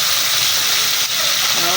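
Tilapia fries in hot oil with a loud, constant sizzling hiss that stays at the same level throughout.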